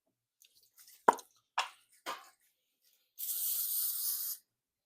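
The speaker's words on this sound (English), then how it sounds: "I need spray." Cooking spray hisses from a can onto cookie pans for about a second, a steady near burst after a few soft clicks and knocks from handling.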